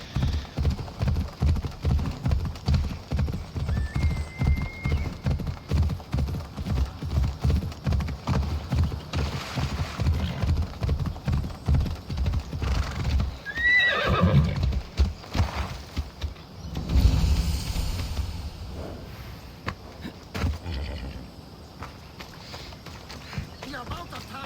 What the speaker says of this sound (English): So nice to just be able to whistle up a horse